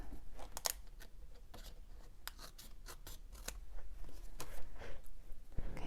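Scissors trim paper for a slimline craft card, a run of close, crisp snips and rustles in an irregular rhythm, with faint handling sounds between cuts.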